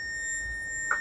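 A multimeter set to continuity gives a short, faint electronic beep while probing a laptop motherboard, a thin steady tone over quiet background.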